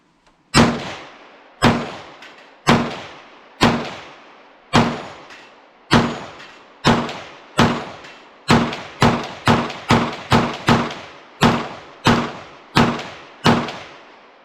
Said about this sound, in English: Let's go ahead and just keep popping off rounds and see what we've got.